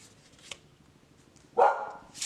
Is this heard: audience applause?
no